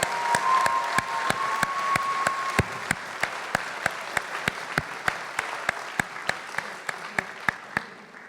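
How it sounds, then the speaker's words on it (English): An audience applauds at a University of Chicago Graham School diploma ceremony. Soft crowd clapping sits under evenly spaced sharp claps, with a brief faint tone early on. "Can we give one more round of applause for Ianu and Julian?"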